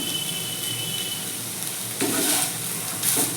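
Banana stem (thor) sizzles and fries in a pan for a Bengali thor ghonto, a steady close hiss broken by two louder bursts of stirring.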